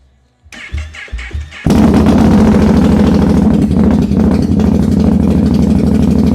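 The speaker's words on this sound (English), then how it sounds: "we're about to do a cold start with no exhaust" A Mitsubishi Outlander third-generation engine cranks over in a few short bursts on a cold start with no exhaust fitted, then catches and roars into a loud, raw, unmuffled idle that rumbles steadily to the end.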